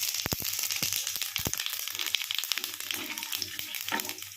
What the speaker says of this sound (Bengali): এবারে কড়াতে দেব এলাচ, দারচিনি, লবঙ্গ আর জিরে